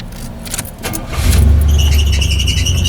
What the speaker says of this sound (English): Every time you start her up, she squeals. That's fan belts.